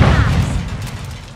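A stun grenade goes off in Call of Duty Modern Warfare 2 multiplayer, a loud low booming blast that rumbles and slowly fades over about a second, with no voices.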